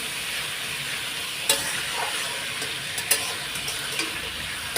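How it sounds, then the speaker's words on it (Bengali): Potatoes and poppy seeds fry in a pan with a steady, dense sizzle, broken by occasional light stirring clicks and crackles, with no talking. "এখন একটু ভেজে ভেজে নেবো আর আমি কী বলো তো পোস্তও দেবো"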